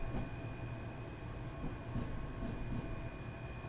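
A Class 385 electric train runs in Train Sim World 3 with a modded sound set: a steady rolling rumble and motor whine with a faint high tone, and a few light clicks from the wheels over the track.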